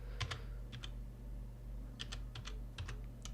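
Clicky keystrokes on a PC computer keyboard as a search for a VPN is typed, coming in short bursts of quick taps with brief pauses, close and clear over a low steady hum.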